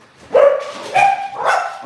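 A dog barks three times in quick succession, loud and close, each bark short and sharp with brief gaps between them, and no talking underneath.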